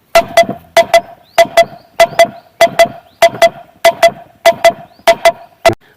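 A handheld bird-scaring noisemaker in a pigeon pea field gives sharp paired clacks, struck in a steady rhythm about every 0.6 seconds, loud and close with no talk.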